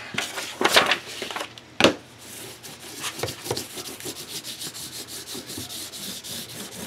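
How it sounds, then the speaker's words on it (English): A glued journal cover is burnished by hand, steady close rubbing strokes over paper with a few sharper scrapes early on, quiet and rhythmic. "Give it a good burnish and get that glue as spread out on there as possible."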